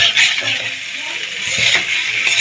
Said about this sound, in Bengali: আমি এখন দিয়ে দেবো ভেজে রাখা আলু আর পেঁপে। খুব ভালো করে কষিয়ে নেব একটু।